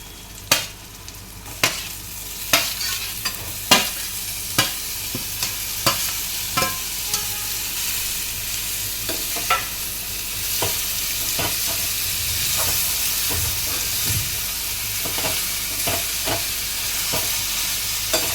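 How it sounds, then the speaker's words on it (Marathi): Marinated soybeans being sautéed in an onion-tomato masala, a continuous low sizzle broken by a series of sharp spoon knocks and scrapes against the pan, fading into steadier stirring. "सोयाबीन घातल्यावर छानपैकी हे कांदा टॅमॅटोचा मसाला चांगला सोयाबीनमध्ये परतून घ्यायचा."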